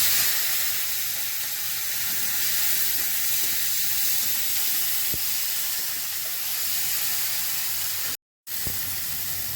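Three chopped onions fry in hot oil with black cumin, giving a steady, dense sizzle that holds evenly throughout, with a faint clink or two and no voices.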